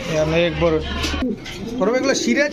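A Lahori pigeon coos close by in a throaty, repeated warble, pausing briefly before cooing again.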